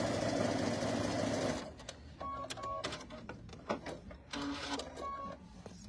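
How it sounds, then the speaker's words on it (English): A sewing machine stitches fabric for a star-patterned tabletop banner, a loud continuous whirring run for about a second and a half, then quieter scattered clicks and handling sounds. "This is really easy stitching for you."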